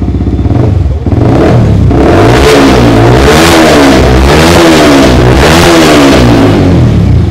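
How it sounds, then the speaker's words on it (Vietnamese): A motorcycle with a modified aftermarket exhaust revs loudly and close, rising and falling through repeated throttle blips after a brief dip, a harsh, continuous engine roar that fills the clip. "Đặc biệt cho mọi người nghe bô độ."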